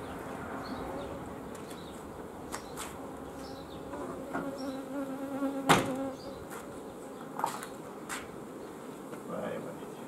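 Honey bees buzz steadily at a beehive in a populated apiary, a dense continuous hum with occasional louder passes of single bees close by and faint voices in the background.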